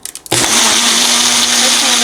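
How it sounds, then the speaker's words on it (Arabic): A blender mixing milk with fruit whirs loudly and steadily after a few short bumps, its motor holding an even high-pitched drone to the end. "خلي بالخلاط، اي خلاط موجود عندكم عادي."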